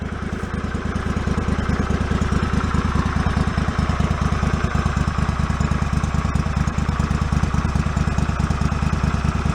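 A Kawasaki liquid-cooled engine on a John Deere riding mower runs steadily nearby with an even, rapid low-pitched throb and no change in speed.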